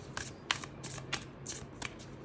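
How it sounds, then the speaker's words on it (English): A tarot deck is shuffled by hand in a series of crisp, papery riffles and taps, about eight quick bursts, close and fairly quiet with no talking. "Let's start the reading with shuffling your deck."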